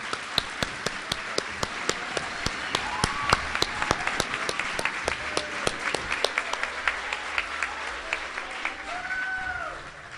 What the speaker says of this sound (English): Let's give a big hand of applause for the Fordson teachers